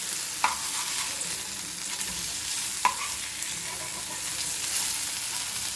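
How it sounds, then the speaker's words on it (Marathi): Rava-coated prawns shallow frying in a little oil give off a steady, dense sizzle, with two sharp clinks from turning the prawns. "मी एकदम थोडंसं तेल टाकले. डीप फ्राय नाही करते, शॅलो फ्राय करते त्याला."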